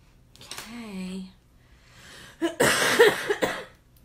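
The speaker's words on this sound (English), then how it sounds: "I wish I was not coughing" A short vocal sound is followed after a pause by a burst of harsh, raspy coughing up close, a couple of rough hacks in quick succession.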